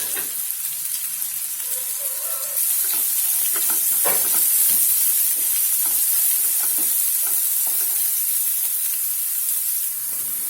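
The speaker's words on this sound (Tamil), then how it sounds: "அதையும் சேர்த்து நம்ம இப்ப வதக்கிக்கலாம்." Curry leaves and broken cashew nuts sautéing in a pan for rava idli, with a continuous hissing sizzle and scattered crackles and spatula taps, close-up and steady with no voices.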